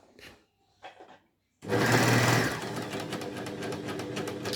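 An overlocker serger sews a washable face mask, starting after a few faint handling sounds with a loud, fast, steady mechanical whirring close by.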